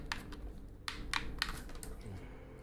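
Computer keyboard keys clatter in a few quick, close bursts of typing, a short run of sharp clicks over a low background hum.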